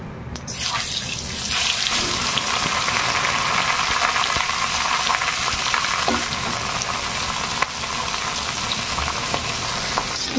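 Barbecue pieces fry in hot oil, a steady loud sizzle running nearly unbroken, with faint scrapes and clinks of the pan now and then and no talking.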